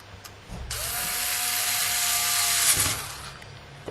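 Screws being driven into a PS2 hard drive enclosure with a small motorized driver, giving a continuous whirring buzz of about two seconds, heard close and alone, with faint handling clicks before and after.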